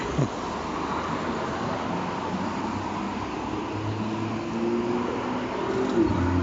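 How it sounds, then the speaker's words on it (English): Steady street traffic heard from a sidewalk on a walk, a continuous low rumble of passing vehicles with one car swelling a little nearer toward the end. "I don't know if you can hear the traffic or not."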